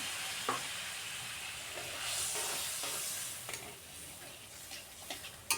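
Sweetened water added to a pan of cooking spice masala for stuffed brinjal, simmering with a steady sizzle over medium gas while a spoon stirs and scrapes, giving occasional sharp clicks near the end.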